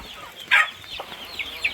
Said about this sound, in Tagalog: Nagpapatuka po tayo ng manok.